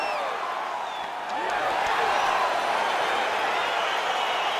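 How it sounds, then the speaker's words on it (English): Crowd noise at a fight in the EA Sports UFC 4 video game, a steady swell of cheering and whooping that rises slightly after the first second and stays loud throughout. "crowd getting excited as this fight gets underway"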